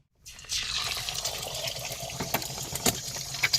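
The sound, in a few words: water draining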